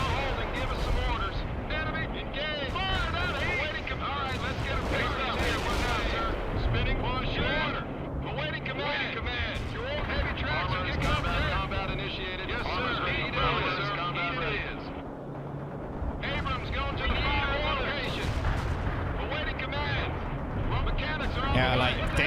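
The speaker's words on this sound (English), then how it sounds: "Airstrikes." Airstrike explosions in the combat game World in Conflict roll on as continuous heavy blasts and rumbling battle noise for the whole stretch, with a voice talking over them.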